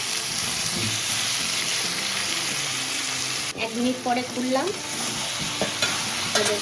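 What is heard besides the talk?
frying in a pan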